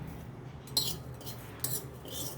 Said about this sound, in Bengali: এভাবে পুরোটা আমি এইভাবে জারে ঢেলে নেব